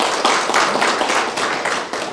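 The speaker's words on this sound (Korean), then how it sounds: "박수 한번 쳐드릴까요? 박수." An audience at a Confucian memorial tea ceremony claps together in a brisk, even burst of applause, loud and close, with no voices over it.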